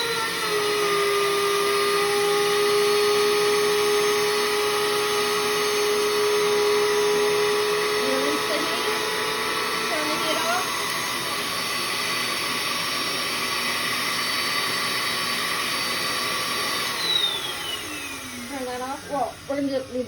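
A vacuum forming machine suctions a teeth whitening tray with a loud, steady motor whine and airflow hiss. It runs for about seventeen seconds, then winds down as a voice speaks near the end.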